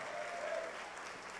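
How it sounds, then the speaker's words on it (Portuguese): A church congregation applauds their pastor during a sermon, producing steady, dense clapping that fills the space evenly for a brief moment, with no distinct voices rising above it. "se é para Jesus, pode aplaudir a Ele"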